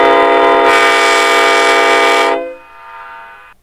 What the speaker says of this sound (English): So this is the horn sound we're doing. It's a Nathan P5A.